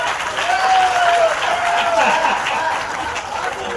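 Audience at a Hindi poetry recital in Indore giving loud, sustained applause, a dense continuous wash of clapping with laughter and voices mixed in.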